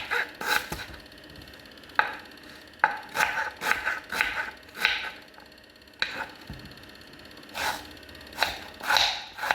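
Knife chopping onion and ginger in a bowl, a run of sharp, close chops in small irregular bursts with short pauses between them.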